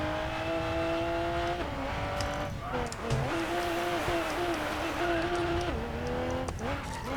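A Toyota GR Supra in the Racing Master video game, with a loud engine revving and shifting through rising and falling pitch sweeps and some tire squeal, heard close and continuous while someone talks over it.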